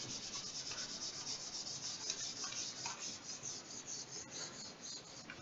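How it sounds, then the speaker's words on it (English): A gaming mouse with no mouse feet scrapes across a desk surface in a continuous faint scratchy rubbing that rises and falls with the hand's movement, close and with no talking. "it's gonna be scratchy because of the no mouse feet thing"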